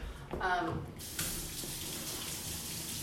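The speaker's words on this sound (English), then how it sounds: "I'm gonna wash my hands because I've been touching my hair." Water runs from a kitchen tap while hands are washed, a steady moderate gush with a brief louder splash at the start, continuing evenly throughout.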